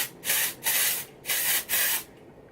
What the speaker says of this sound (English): I'm going to pick it up and let the hair fall and spray at the same time.